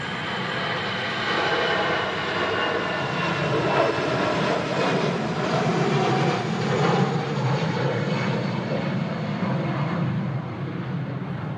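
A Ryanair Boeing 737-800 at Manchester Airport roars past in strong crosswinds, a loud, sustained jet engine rumble that holds steady throughout with a slight swell in the middle, with no talk.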